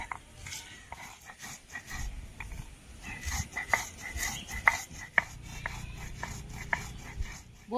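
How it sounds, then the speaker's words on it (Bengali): Fried spices for an oil-free chicken curry being ground by hand on a stone, with quiet irregular scraping and knocking strokes and a few sharper clacks, close up and with no talking. "এবার আমি বেটে নেব।"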